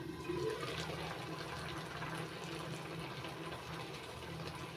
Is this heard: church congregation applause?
no